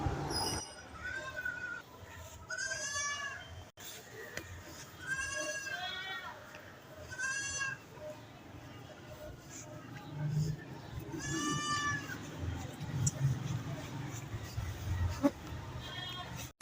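A Rajanpuri goat at a Pakistani livestock market bleats repeatedly, loud wavering calls close by, with someone talking and other background noise.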